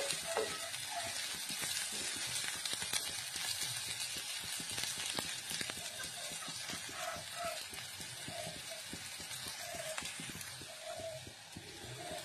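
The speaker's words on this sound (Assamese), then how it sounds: "এই সকলোখিনি একেলগতে মই অলপ সময় ভাজিছোঁ" Spices frying together in a pan for a yogurt chicken curry make a continuous dense crackling sizzle, with rapid popping at an even level throughout and no voices.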